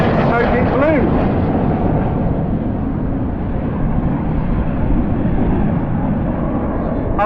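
Red Arrows display jets at the Southport airshow, a synchro pair breaking away trailing red and blue smoke, roar as a steady broad jet rumble throughout, loud and continuous outdoors with a crowd-filled open-air feel.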